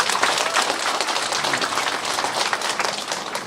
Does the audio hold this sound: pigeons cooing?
no